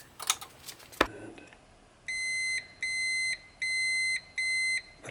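An electrical tester checking continuity on the wiring of a gas-fired boiler in a barn gives four evenly spaced, loud electronic beeps, each about half a second long, after a few faint clicks and handling noises.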